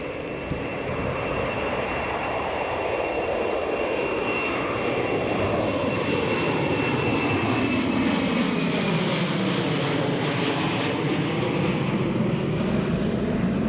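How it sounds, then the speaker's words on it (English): A TUI Boeing 737 jet rolls down the runway for takeoff in stormy weather, its engines roaring loudly and continuously with a rising, shifting whine as it accelerates, wind noise underneath and no talk. "here goes the TUI 737. Just rolling down runway 25 now."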